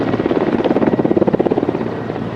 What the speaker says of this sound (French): Un hélicoptère de la MONUSCO avec à son bord Viviane Van de Peer, chef de la MONUSCO par intérim, a atterri à l'aéroport de Goma